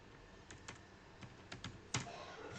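Computer keyboard being typed on: a short run of light, irregular clicks and taps, close and dry, with a slightly heavier keystroke near the end over faint room hiss.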